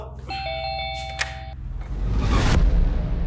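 A two-tone electronic doorbell chimes clearly, then fades into a rising rumble and rustle of movement with a muffled voice nearby.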